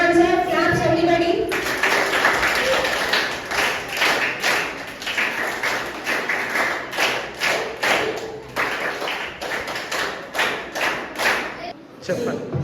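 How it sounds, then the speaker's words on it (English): Children in a primary school quiz competition clap for a correct answer, with a brief voice at the start and then a long run of rhythmic group claps, fairly close, before a short pause near the end. "So that's the correct answer. Claps everybody."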